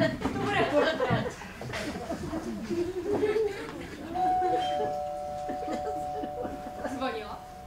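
A doorbell chimes with a sustained ringing tone partway through a stage play, under people chatting and chuckling.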